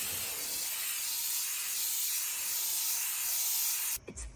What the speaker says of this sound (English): putting the last coat of sealer on these things.